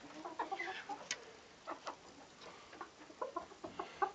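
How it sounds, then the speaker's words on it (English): Small bantam Wyandotte chickens cluck and murmur softly nearby in a loose, irregular series of short calls, with no talking. "They're cute little tiny bantams."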